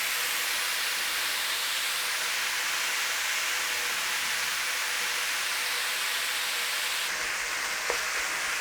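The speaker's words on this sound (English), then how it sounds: "Just break up those clumps of mince as we're going." Pork mince frying in a pan for spring rolls gives a steady, close, even sizzle and hiss throughout, with a small tap near the end and no voices.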